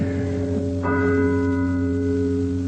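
Church bells ring with sustained, overlapping tones, a fresh strike adding a brighter layer partway through as the resonance hums on.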